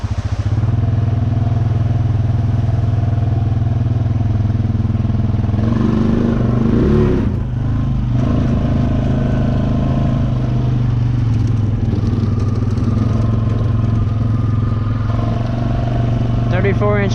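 A Honda Rancher 420 four-wheel-drive ATV with 34-inch Assassinator tires, no lift and no plastic, churns deep through a creek, its engine droning loud and steady, with splashing and water clatter throughout.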